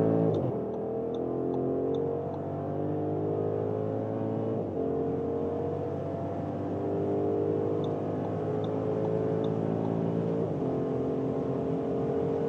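A 2025 Audi SQ8 facelift with its V8 accelerates hard from 50 to 200 km/h, a loud, steady engine roar with rising tones that drop back briefly at each upshift, heard from inside the car with no talking.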